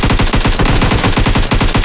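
Loud, close automatic gunfire in the PUBG Mobile game, a rapid unbroken stream of evenly spaced shots rattling for about two seconds with no voices.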